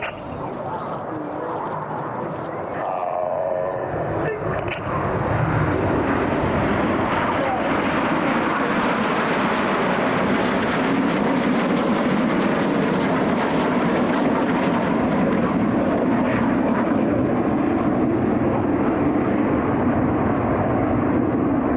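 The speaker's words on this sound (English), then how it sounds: "Reds 8 and 9 roll around the rest of the formation" Red Arrows jets fly in formation at the Old Buckingham Airshow, a loud sustained roar that swells and fills the whole stretch, with faint commentary beneath it.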